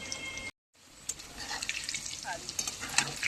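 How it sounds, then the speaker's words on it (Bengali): Potatoes seasoned with salt and turmeric frying in oil, a steady sizzle with stirring scrapes and light clatter after a brief gap of silence, no talk. "আলুটা একটু লাল করে ভেজে নিই"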